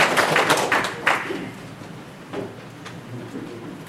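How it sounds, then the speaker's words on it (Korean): Audience at a lecture by Dr. Kim Hyun-wook breaks into applause, a burst of close clapping that is strongest at the start and then thins to a softer, scattered patter. "박수 한번 드리고 감사합니다."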